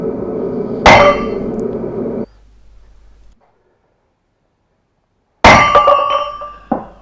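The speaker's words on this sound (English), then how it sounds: "Some wooden supports and a lot of hammering." Two loud, ringing metallic hammer strikes on a sprocket, separated by a long silence, each clang decaying with a bright resonant tail.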